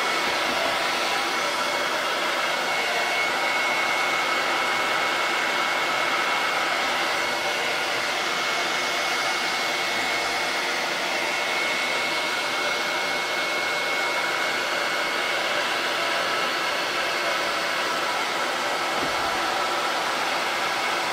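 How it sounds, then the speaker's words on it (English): A hair dryer, used to warm a WoodUBend moulding on a reclaimed cupboard door, blows in a loud, steady, unbroken whoosh from start to finish with no voices. "I'm going to turn on my hairdryer."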